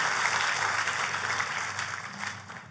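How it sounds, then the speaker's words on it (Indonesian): Church congregation clapping in response to a call from the pulpit, dense steady applause filling the room alone for a few seconds and slowly easing off. "Kasih tepuk tangan yang paling meriah buat Allah kita yang luar biasa"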